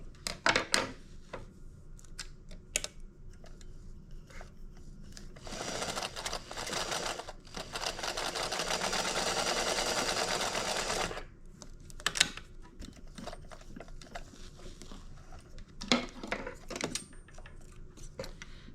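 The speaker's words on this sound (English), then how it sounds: "I'm also going to stitch part of the bottom, just a couple of inches in" A sewing machine stitches the bottom of a fabric wristlet, a quiet close run of rapid needle chatter lasting several seconds, with sparse clicks and handling noises before and after.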